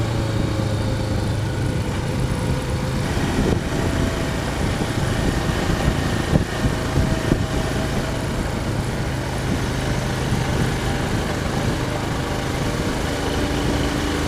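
A motorcycle engine hums steadily while riding on a country road in fifth gear, a continuous, even drone with wind noise and no talk.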